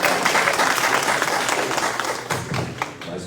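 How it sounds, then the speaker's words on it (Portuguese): Conference audience applauding at an academic panel session, a dense steady clapping that fills the room for a few seconds with no one speaking over it. "Salva de palmas."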